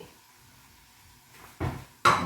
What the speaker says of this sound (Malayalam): വറുക്കാനായിട്ട് ഞാൻ ഒരു പാൻ വയ്ക്കട്ടെ